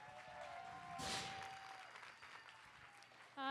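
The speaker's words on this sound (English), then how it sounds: "So if you can give a big round of applause for our executive director, Alyssa." Audience applause at a conference session breaks out as a broad burst of clapping that swells and then tapers, with a faint steady tone running underneath and a brief sharp sound at the end.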